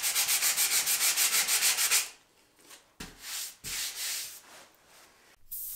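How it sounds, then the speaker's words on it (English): Sandpaper rubs over wood to take off leftover wood filler, starting with quick, regular back-and-forth strokes for two seconds, then a few slower, uneven passes with short pauses between. "I also wanna make sure and sand off any sort of residue or any surface level stuff from the filler"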